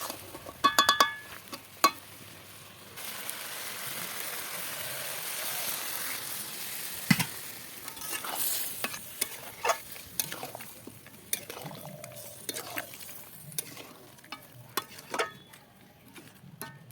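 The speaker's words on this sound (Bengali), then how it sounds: "আমার মাংস কষা মানে খাসির মাথা কষা কিন্তু হয়ে এসছে" Goat head meat is fried and stirred in a pan, scraping and clattering against the metal over a soft background sizzle, with sharp knocks at the start and irregular stirring strokes throughout, close and fairly loud, with no voices.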